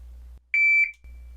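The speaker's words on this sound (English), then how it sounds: "But we'll have a beep here." A single sharp electronic beep from a shot timer, high-pitched and clean, lasting about half a second against quiet background hum.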